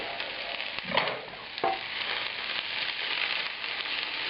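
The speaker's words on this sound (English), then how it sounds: "we're going to keep cooking this for a while, you can add this diced shallot and the bay leaf and the garlic" Diced shallot, bay leaf and garlic fry gently in a pan for a French shrimp and mushroom cream sauce, giving a soft, even sizzle with a couple of light utensil taps.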